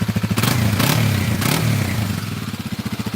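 A Kawasaki KLX 250 S motorcycle engine idles and revs nearby, a steady, fairly quiet thumping drone with brief rising throttle bursts and a pulsing rhythm as it settles back down, with no talk over it.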